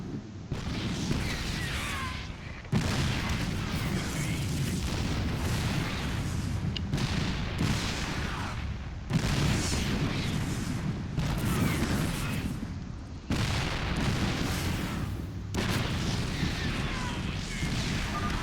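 Repeated heavy booms and crashing blasts of siege tank shelling in StarCraft II roll on continuously, dense and loud, with brief gaps between volleys.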